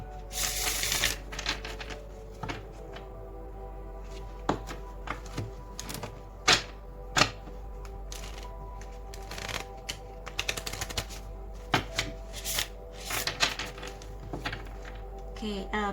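Tarot cards are shuffled close up in a steady run of crisp riffles and flutters, with sharp card snaps and taps scattered through it.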